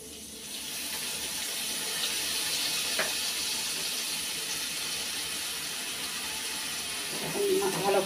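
Water poured into a cooking pot of spices with turmeric and salt, a steady hissing pour lasting several seconds close by, with a faint sizzle beneath and a brief clink near the end.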